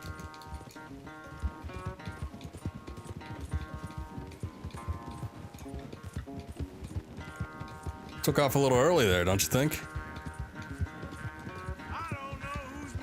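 Horse racing at a gallop in Red Dead Redemption II, hooves clip-clopping in a steady fast rhythm beneath game music, with someone talking over it and a loud burst partway through.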